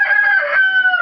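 A chicken in a backyard coop calls out close by in a steady, drawn-out squawking cackle that lasts the whole second, loud and alone with no talk over it.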